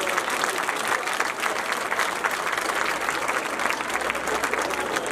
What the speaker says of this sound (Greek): Ένα μεγάλο χειροκρότημα για την Ξηροκρανιά.